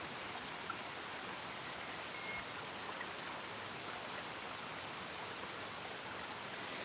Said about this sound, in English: This is all because I've got a little waterfall.